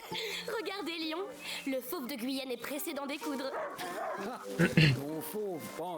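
Dog barking and whimpering in A Plague Tale: Innocence, a series of yips and bow-wow barks close by, mixed in with a talking voice throughout.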